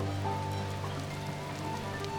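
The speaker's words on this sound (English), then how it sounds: "It's raining." Rain falls in the video game The Midnight Walk, a steady, soft patter of drops on surfaces that continues evenly throughout at low volume with no speech.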